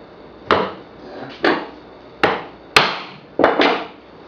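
Five sharp, separate mallet blows drive a holdfast down onto a bench to clamp walnut edge-banded work. The strikes come at uneven intervals of about a second, close and loud, with a short ring after each.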